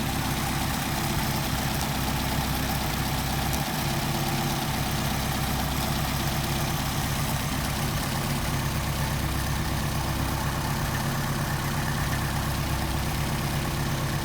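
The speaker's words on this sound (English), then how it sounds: "now we're going to come back here and we're going to reset our idle speed" A car engine with a Solex carburetor idles steadily during idle-speed tuning, a constant close, low, even rumble with no speech and little change in pace.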